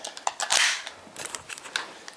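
A CO2-powered 4.5mm BB pistol fires indoors, with a sharp snap and a hissing burst of gas followed by a series of quieter clicks and ticks, close by.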